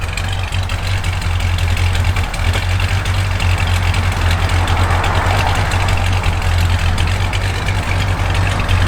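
A 1967 Plymouth Belvedere convertible idles with a lumpy cam, a steady, loud, low rumble that holds even throughout with no revving.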